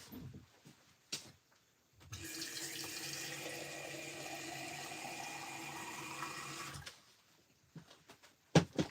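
A tap runs for about five seconds, filling a water container for gouache painting, a steady close hiss starting and stopping abruptly between quiet handling clicks and bumps.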